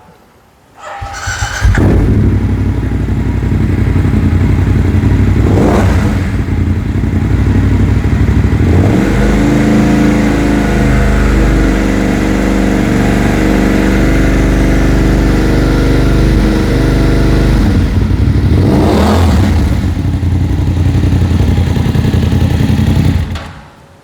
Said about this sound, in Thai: ขอฟังเสียงท่อนะครับคันนี้ทำบายพาสท่อมาแล้วนะ เสียงนุ่มๆนะครับ